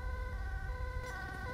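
Ambulance siren in GTA 5, arriving at an incident scene during a fire department shift, a steady wailing tone held continuously over low rumbling background noise for the whole stretch.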